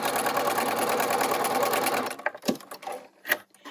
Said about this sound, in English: I'm just going to sew 1/4 inch down the other side